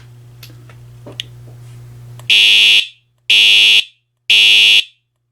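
Fire alarm test: after a stretch of quiet room tone, three loud, identical electronic alarm blasts sound, each about half a second long and separated by short gaps, harsh and piercing at close range.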